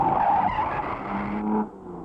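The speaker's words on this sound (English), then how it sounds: "And this is our Ferrari, with the Aston of George Abacasis just behind." A Ferrari race car in the 1953 Mille Miglia road race roars past close by, its engine note and tyre noise swelling then dropping away in a short, loud pass.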